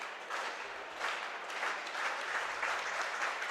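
Steady crowd applause rises and falls in swells at an outdoor track and field meet as a triple jumper lands, a continuous wash of clapping heard from some distance.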